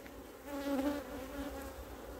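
Honeybees hum around an opened hive in a close, steady buzz that swells briefly and then settles, with no voices.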